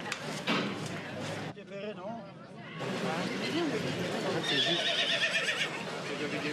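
Horses whinny and neigh repeatedly at a centuries-old horse fair in early September, with hoof clops and a babble of people chatting nearby throughout.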